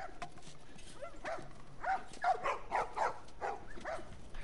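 A dog barks and yips in The Last of Us video game, a run of short, fairly close barks in an uneven rhythm over a quiet background.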